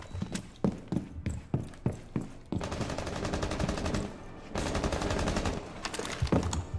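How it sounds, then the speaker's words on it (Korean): Gunfire in the video game Rainbow Six Siege: sharp separate shots at first, then a sustained automatic burst, a pause, and another long burst ending in a few more single shots, fairly distant. "이 총소리는 누구지?"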